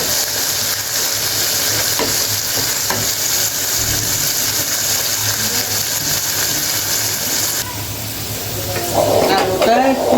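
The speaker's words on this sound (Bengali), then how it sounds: "এটা একটু ভাজা ভাজা হোক আলুটা" Small potatoes fry in a pan with a steady, close sizzle and occasional stirring, with a voice and kitchen clatter near the end.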